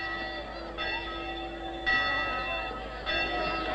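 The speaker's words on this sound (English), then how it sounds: "The chapel bells will give them the signal for the off." Chapel bells in a 1952 film ring out as a signal, several sustained, resonant strikes overlapping, each new stroke arriving about a second apart, with no talking over them.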